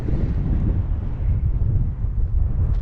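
Strong wind on a mountain top at Idaho Point buffets the microphone in a steady, loud roar with low rumbling gusts and no other sounds.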